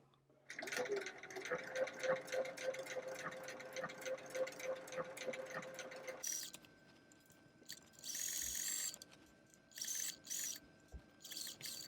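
A sewing machine runs a triple stitch along doll pants with an elastic casing, a steady mechanical whir for the first half, then shorter bursts of stitching separated by pauses.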